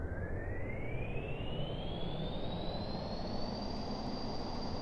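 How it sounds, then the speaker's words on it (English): VTOL jet engines running in Kerbal Space Program give a loud, steady roar with a high whine that climbs gradually in pitch throughout. "Okay, the engines are on."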